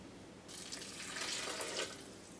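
Water pours into a high-speed blender jar in a soft, steady hiss that starts abruptly and continues quietly and close by for a couple of seconds.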